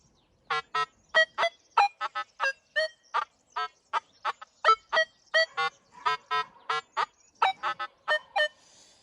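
A Nokta Legend metal detector with its iron filter switched off sounds over a buried target: about two dozen short, clear tonal beeps come in quick, uneven succession, close and alone without talk.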